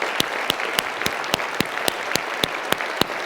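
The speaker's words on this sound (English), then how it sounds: "I think we should give them all a round of applause" Audience applause at the closing plenary of a European conference: steady dense clapping from a large hall crowd, with a few sharp individual claps standing out at regular intervals, sustained throughout.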